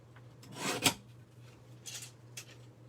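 Paper being trimmed for a handmade birthday card with patterned paper: a quick rasping cut near the start, then a few lighter scraping strokes, close and quiet over a steady low hum.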